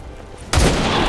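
A single loud gunshot from a turn-based strategy game cracks out sharply after near-silence and then rings on in a sustained echoing boom.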